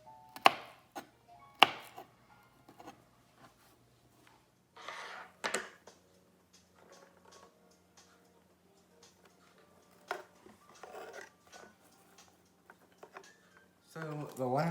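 A sharp kitchen knife chops vegetables on a cutting board for salsa, sporadic crisp cuts spaced apart, some louder and near, between stretches of quiet and a faint steady hum.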